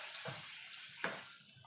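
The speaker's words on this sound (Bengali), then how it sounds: "এবার অল্প করে জল দিয়ে দেবো" A little water is poured into a pan of mung dal cooked with poppy seeds, giving a soft, brief splash and trickle that is quiet and close.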